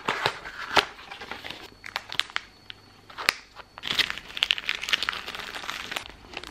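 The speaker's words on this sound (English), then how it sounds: "you just snip off the top here and then slip your feet in" Scissors snip open plastic foot peel socks, with sharp crinkling and crackling of thin plastic bag material, a few distinct cuts amid rustling handling noise close up.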